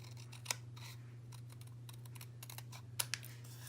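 Scissors snipping through paper, a string of soft, close clicks and cuts, with a couple of sharper snaps over a steady low electrical hum.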